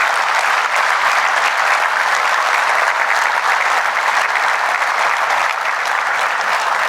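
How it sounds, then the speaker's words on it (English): A keynote audience at a tech conference bursts into loud, sustained applause that fills the hall evenly for several seconds, dense and steady with no voices rising above it. "Please give them a big round of applause."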